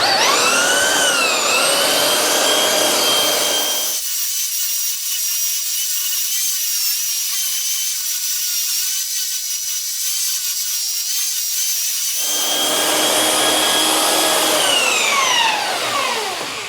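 Belt sander working wood for a ledge and brace door, a loud, close whining drone that drops into a lower muffled grind midway, then rises back to the high whine before tapering off.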